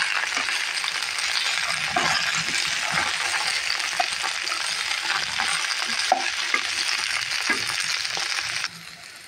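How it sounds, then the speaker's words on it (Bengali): Flat beans frying in a pan, with a steady broadband sizzle and repeated scraping, clinking stirs of a utensil throughout, cutting off just before the end. "সিমটাও আর একটু ভেজে নেব"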